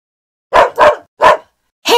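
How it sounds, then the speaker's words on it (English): A dog gives four short, sharp barks close by. The first three come in quick succession, followed by a pause before the last one, with silence between them. "Hey, where's that bark coming from?"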